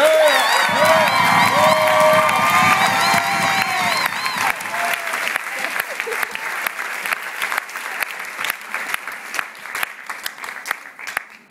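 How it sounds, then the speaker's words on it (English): An audience at a youth poetry performance claps and cheers loudly. Shouts and whoops ring out at first, then the applause thins into scattered, fading claps. "I think he deserves a round of applause"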